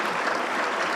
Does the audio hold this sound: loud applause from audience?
yes